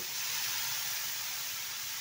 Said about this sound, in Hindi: तवा को एकदम गर्म कर लेना है इसके ऊपर पानी डालेंगे इस तरीके से